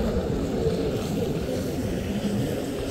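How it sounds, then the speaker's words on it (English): A jet ski roars across open water off a fishing point in New Orleans, a constant low engine rumble mixed with wind buffeting, steady and fairly loud for the whole stretch. "Crazy jet ski riding out there."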